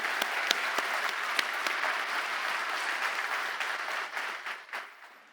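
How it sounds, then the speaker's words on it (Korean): Church congregation at a New Year's Eve worship service applauding in thanksgiving, broad sustained clapping from many hands at moderate distance that thins out and fades toward the end. "우리 영광을 담아서 박수로 하나님께 감사를 올려드립시다."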